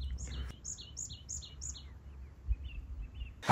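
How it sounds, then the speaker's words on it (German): Small birds at a campsite in Emmental, Switzerland sing a quick series of high chirped notes, clear at first and fading into softer calls, over a low outdoor rumble with one sharp knock. "müsst den Vögeln mal zuhören"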